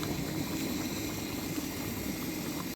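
Rice water for an aloo matar vegetable pulao bubbles at a steady rolling boil in a pot, a dense continuous bubbling and hiss heard close and alone.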